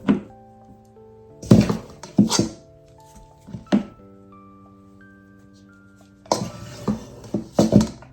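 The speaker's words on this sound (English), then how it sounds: "So I'm gonna transfer this to a smaller bowl and we'll pop it in. So just using this one here, I'm gonna scoop all our dough up." A spoon scrapes and knocks against a metal bowl while scooping sugar cookie dough into a smaller bowl. The clanks and scrapes come in irregular bursts with quiet gaps between them, close by, with a faint metallic ringing.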